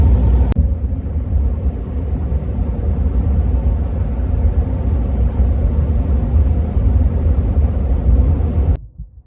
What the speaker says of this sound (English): I can hear a jet or some type of an engine.